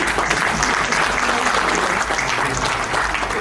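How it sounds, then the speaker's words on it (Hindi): Loud, close applause from the audience at an international poetry mushaira, a dense continuous patter of clapping that fills the whole stretch with no talk over it. "तालियां बजाने को दिल चाह रहा है तो भरपूर बजाइए।"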